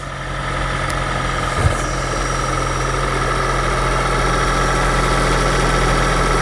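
A 2026 Jeep Cherokee Overland's turbocharged engine runs steadily at idle, a constant low hum with a faint vibration throughout and a single small knock partway through.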